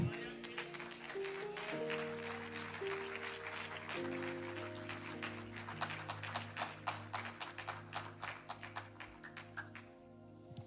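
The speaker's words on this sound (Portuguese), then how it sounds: "Você pode aplaudir ao Senhor?" A church congregation applauds during a sermon. The clapping comes in uneven bursts over held organ or keyboard chords and builds toward the end before dropping away.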